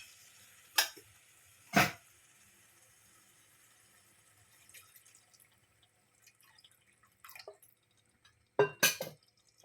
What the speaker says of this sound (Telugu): ఇప్పుడు తగినన్ని కొంచెం వాటర్ వేసుకుందాం.